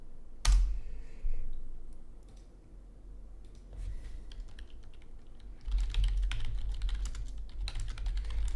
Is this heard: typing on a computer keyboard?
yes